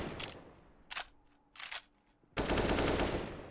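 Gunfire in Counter-Strike on the Nuke map: short sharp bursts of automatic shots, then a longer sustained burst, loud and close with quiet gaps between.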